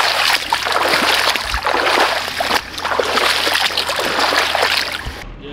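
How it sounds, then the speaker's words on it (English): Sustained broadband rush and splashing of water as someone wades through a rocky creek crossing on the Gibb River Road, loud and close, continuous with small surges, cutting off abruptly at the end. "another creek crossing. This time I'm walking through. Looks pretty rocky again."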